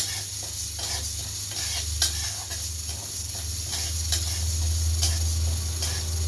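Mung dal dry-roasts in a pan with a steady, close sizzle and the repeated scrape and tick of stirring, loud and without talk.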